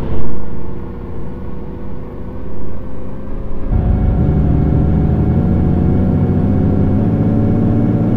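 The number 25 bus in a Roblox bus simulator game gives off a steady, low engine rumble that swells louder and fuller partway through, then drones on evenly without a break.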